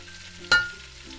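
Garlic and chicken breast browning in a pan over lowered heat, with a steady low sizzle and one sharp loud scrape or clatter midway that fades quickly.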